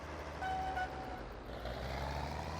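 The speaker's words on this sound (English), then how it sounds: "Man, this thing's brakes are squeaky." Truck brakes squeal in Farming Simulator 22, a thin high-pitched whine lasting under a second over a steady low engine drone, fairly quiet.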